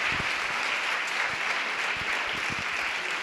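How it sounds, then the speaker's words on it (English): Audience applause for a speaker taking the stage at a CreativeMornings breakfast talk in New York, a steady dense wash of clapping from a sizable crowd filling the whole stretch at even loudness, with no talking. "Please give a rockstar round of applause for Guy Benaron."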